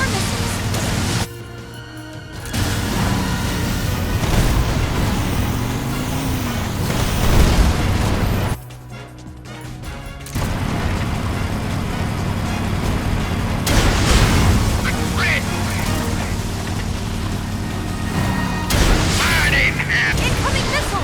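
Missile explosions in Metal Gear Solid Delta: Snake Eater land as heavy, loud booms and rumbling blasts in a dense, continuous wash of battle sound, with two short quieter gaps between the bursts.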